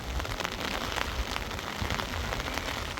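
Heavy monsoon rain pours steadily onto surfaces, a dense, even hiss of drops that stays loud and constant with no voices or thunder.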